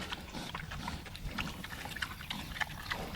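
Pigs on a farm grunt and snuffle close by, a busy run of short, irregular snorts and squeals over a rustling, noisy pen background.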